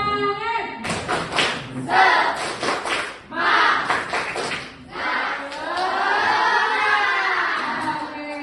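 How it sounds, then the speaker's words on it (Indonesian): A group of junior high school students at SMPN 04 Merangin claps a rhythmic cheer pattern together: loud bursts of sharp, patterned claps and thumps with a crowd of voices chanting along. "Kita tepuk semangat dulu ya."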